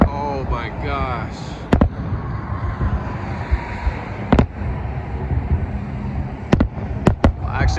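Sharp distant fireworks bursts outside Tesla Giga Texas in Austin at the Cyber Rodeo, a handful of loud cracks in irregular clusters over steady outdoor rumble, with talking at the start.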